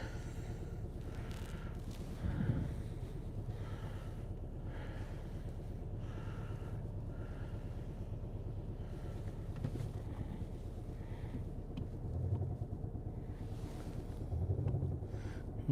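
A 2020 Volkswagen Passat Variant 2.0 TDI diesel with a 110 kW engine and DSG gearbox idles with a low, steady hum, rising in a few brief throttle blips, faint and rough under wind noise.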